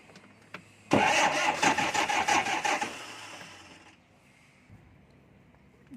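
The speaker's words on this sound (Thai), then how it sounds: "เครื่องสตาร์ทติดง่ายนะครับ" An older tractor engine, a Champ 5900 offered cheaply, cranks and catches with a loud rapid chugging burst for about two seconds, then sputters and fades to a quiet background hum.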